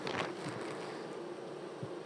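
Honeybees swarm around hive frames as nests are prepared for winter, a dense steady buzzing drone, close and continuous, with no talk.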